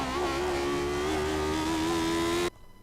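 Lotus 79 racing car engine in iRacing on the Nordschleife, a loud steady high-revving drone with slightly wavering pitch under acceleration as the car bumps over the track, cutting off abruptly near the end.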